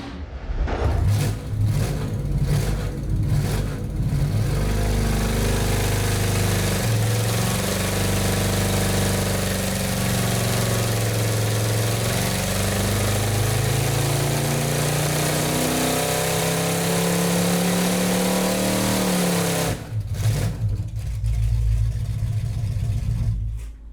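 A carbureted Pontiac 400 V8 from a '67 Pontiac GTO making a pull on an engine dyno, roaring loudly and steadily for about twenty seconds as the pitch climbs, then cutting back to a rough idle.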